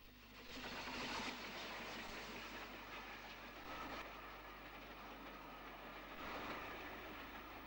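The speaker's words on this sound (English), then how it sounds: "a Black 5 vigorously accelerates her train through Humberstone" A Black 5 steam locomotive accelerates its train through Humberstone in wintry conditions, a steady, loud rolling roar of wheels and exhaust sustained throughout with slight surges.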